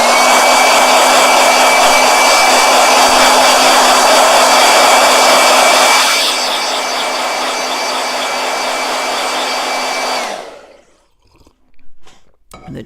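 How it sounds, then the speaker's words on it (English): A handheld blow dryer drying paint on a travel journal page, a loud steady whooshing hum with a tonal whine that drops to a lower setting midway, then cuts off, leaving quiet handling noises. "The blow dryer does spread the paint sometimes, but it also dries the paint."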